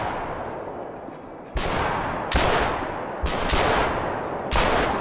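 Gunshots ring out in the hunting video game Call of the Wild: about five loud, sharp reports come a second or so apart, each trailing off in a short echoing decay.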